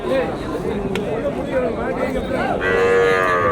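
Native cattle at a busy livestock market low and moo loudly and close by, with long drawn-out calls that overlap a steady background of crowd noise and someone talking.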